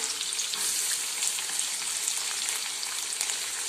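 Chopped onion sizzling in hot oil for pohe, with a steady bright frying hiss that carries on evenly throughout, close and fairly loud, and no talk.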